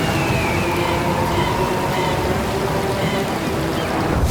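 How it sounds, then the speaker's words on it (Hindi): Heavy monsoon rain pours steadily over a village in an animated Hindi story, a dense continuous hiss of drops with no voices over it. "बारिश अपने चरम पर थी"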